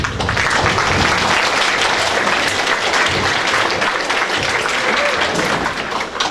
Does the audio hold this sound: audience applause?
yes